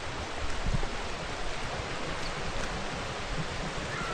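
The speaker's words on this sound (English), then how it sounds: "There's a little waterfall." A small waterfall in Bryce Canyon gives a steady, soft wash of splashing water, a constant hiss with no distinct events, heard from close by with no voices.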